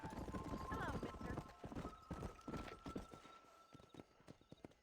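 A ridden horse clip-clopping at a quick, even pace, hooves knocking close and clear, with a snort or whinny and people talking over the hoofbeats.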